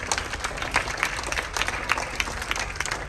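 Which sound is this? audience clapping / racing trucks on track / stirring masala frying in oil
audience clapping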